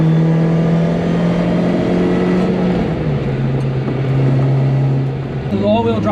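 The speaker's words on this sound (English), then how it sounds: "It definitely accelerates faster than you think" Subaru Vivio RX-R micro car with all-wheel drive accelerating, its small engine droning loud and steady with pitch shifting through gears, heard close from inside while a person talks over it.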